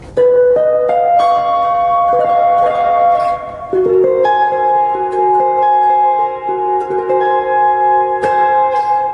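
Baritone electric guitar, a Firefly FFJA 30-inch Jazzmaster on the bridge pickup, played clean and fairly loud, sustained chords and single notes ringing out with a slightly thin, twangy tone and no voices.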